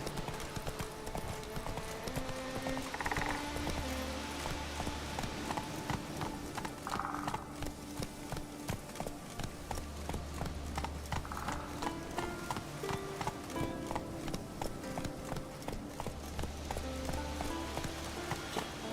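Roach the horse galloping in The Witcher 3, a steady rapid clip-clop of hooves running throughout, with a low rumble and faint background music.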